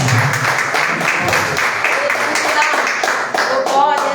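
A church congregation claps in praise, rhythmic hand claps mixed with voices and singing, loud and close throughout.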